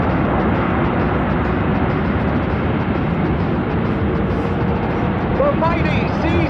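A C-17 Globemaster III roars loudly on landing as its reverse thrust builds, a broad continuous rumble that holds steady throughout at an outdoor air demonstration, with faint voices underneath.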